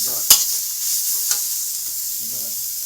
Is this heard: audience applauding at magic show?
no